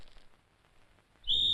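A shrill whistle is blown in a comedy scene, starting abruptly after a quiet stretch and holding a loud piercing tone to the end.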